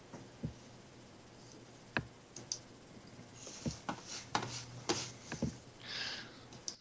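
Loud keyboard typing picked up over a video call: scattered sharp clicks and taps, irregular and close to the microphone, over a steady background hum.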